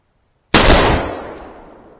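A 1891/30 Mosin Nagant rifle fires a single loud shot outdoors after a moment of silence, with a sharp crack followed by a long, fading echo.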